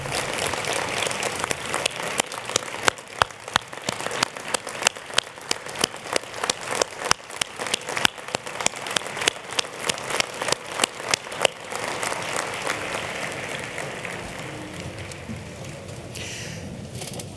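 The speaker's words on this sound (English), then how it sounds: "just to give them a round of applause for their father" An audience applauds at a morning community event, a long swell of many hands clapping with sharp, rhythmic individual claps standing out in the middle before the applause fades into quieter room noise.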